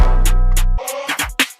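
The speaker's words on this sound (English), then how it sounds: "After that, I just put in this brass, which is very dope for trap beats." A punchy brass sample stabs over a deep sustained 808 bass in a trap beat built in FL Studio, loud and upfront with rhythmic hits and no voice.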